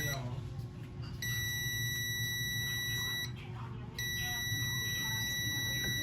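A multimeter's continuity buzzer sounds two steady high-pitched beeps, one about two seconds long and a second starting near four seconds, while testing a diode on the board of a Samsung 43-inch TV with no power, over a constant low hum.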